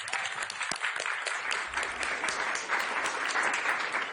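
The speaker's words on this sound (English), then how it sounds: "Yes, that's an applause, Lionel." A crowd applauds at a Capitol press event on a bill about trans athletes, with steady, moderately distant clapping that carries on evenly without pause.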